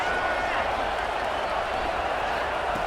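A football stadium crowd roars in a steady, dense wall of cheering and applause, continuous and loud for the whole short stretch.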